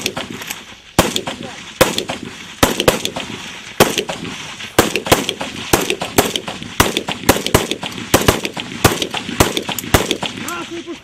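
Gunfire at a border guard shooting drill, loud sharp shots fired singly and in quick irregular bursts, close by, with shouted commands between them.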